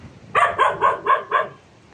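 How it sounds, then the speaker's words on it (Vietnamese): A dog barks at night in the Bình Hưng Hòa cemetery, five sharp barks in a steady rhythm, fairly close and loud, then it falls quiet. "cây xào xạc, chó sủa gâu gâu,"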